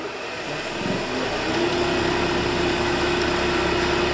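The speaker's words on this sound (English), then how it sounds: "I've turned mine at the highest speed on the delta lathes here, which is about 1850." A Delta wood lathe spins at about 1850 rpm, its motor giving a continuous, even whirring hum with a faint high tone, steady and close throughout.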